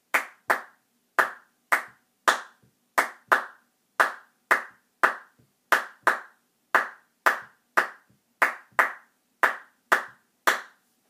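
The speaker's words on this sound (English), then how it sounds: "then I'm going to clap it with my hands" Bare hands clapping a steady four-beat pulse, sharp claps in pairs, about sixteen in total, close and loud with brief silences between them.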